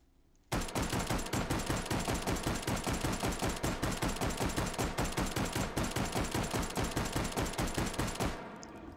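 An M1917 trench carbine fitted with a 40-round double-stack magazine fires one long, loud, evenly spaced burst of rapid shots that lasts about eight seconds before stopping abruptly.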